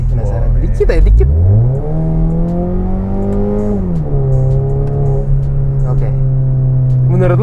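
The engine of a street-racing modified Mazda 3 revs up sharply, holds a high droning pitch, then drops to a steady elevated rev. It is close and loud, with people talking over it.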